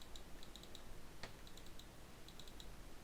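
Keys clack on a mechanical keyboard in quick, irregular bursts of crisp clicks, faint and somewhat distant against a steady hiss, with a few pauses between flurries.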